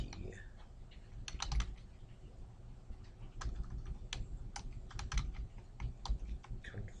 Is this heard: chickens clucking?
no